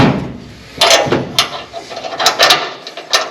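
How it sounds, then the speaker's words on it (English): A hammer taps on bolts while a seat is mounted in a vehicle, giving several sharp metallic knocks in an irregular rhythm, close and fairly loud over a quiet background. "we're gonna tap these bolts now"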